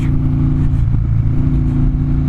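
A deep, bassy 2014 Harley-Davidson Dyna Street Bob exhaust rumble idles steadily and loud, with a brief throttle blip in the middle.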